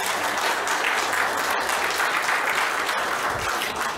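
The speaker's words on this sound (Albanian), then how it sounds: "duhet një duartrokitje shumë e fortë." Audience applause at an award ceremony for a company honoured with a prestigious prize, with steady dense clapping filling the room at close range for the whole stretch and no talk over it.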